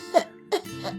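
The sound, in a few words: genuine cough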